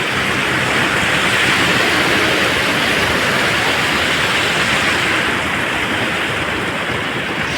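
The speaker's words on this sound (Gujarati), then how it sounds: "પાણી તમે જુઓ ફટાફટ ચાલી રહ્યું છે." Fast-flowing water of the Surka Keri river rushes in a broad, continuous hiss, close and loud without pause, with no voices over it.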